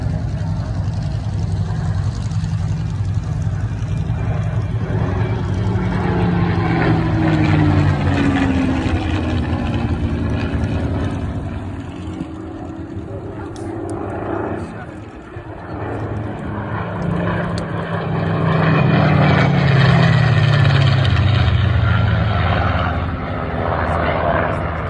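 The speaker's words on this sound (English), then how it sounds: "get those cameras ready, folks, for these two magnificent Spitfires" Two Spitfire warbirds fly past at the Omaka 2023 airshow, a loud sustained piston-engine roar rising and falling as the planes pass, with shifting pitch and crowd-level ambience, no clear speech.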